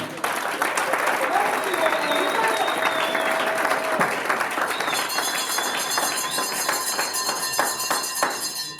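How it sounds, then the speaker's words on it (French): Wedding guests applaud loudly and continuously at a wedding reception, dense close clapping with cheers and whistles rising through the crowd. "veuillez acclamer très fort pour le frère Pedro Cabana"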